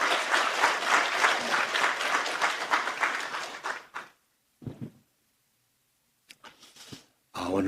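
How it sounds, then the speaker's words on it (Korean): A church congregation applauds to welcome the pastor at a revival service. Loud, dense clapping lasts about four seconds, then stops abruptly, followed by a few isolated clap-like bursts and shuffling noises separated by silence. "우리 목사님 박수로 앞으로 모시겠습니다."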